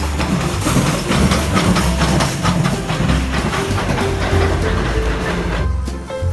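Toy express train rolling steadily with a continuous rattling clickety-clack and mechanical hum, loud and close, running without pause for several seconds.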